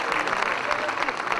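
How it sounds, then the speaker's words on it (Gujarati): A crowd at a Jain temple consecration ceremony in Ghatkopar East applauds with dense, continuous clapping, loud and steady throughout. "જોરદાર તાળીથી"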